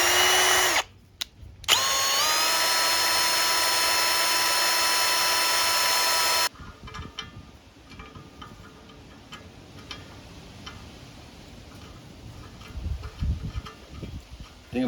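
Power tool whirring at high speed for several seconds while cleaning paint residue from the threads of a 1956 International S-160 4x4 rear axle adjuster, then stopping to quiet scraping, clinking and handling sounds.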